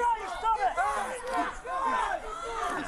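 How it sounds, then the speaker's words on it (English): A large crowd gathers around police officers during a chaotic arrest, with loud, overlapping voices and shouting that keep up steadily nearby throughout. "a large yep. crowd formed around them"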